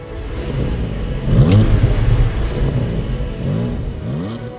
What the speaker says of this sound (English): A new naturally aspirated engine in a sports car